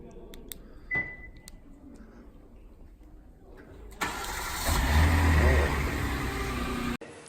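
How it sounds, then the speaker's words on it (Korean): A Kia K7 Premier with a 3.0 gasoline engine starts remotely from its smart key: faint clicks and a soft beep, then the engine catches with a loud burst around four seconds and settles into a steady idle before cutting off abruptly. "스마트 키로 또 원격 시동을 걸 수가 있습니다"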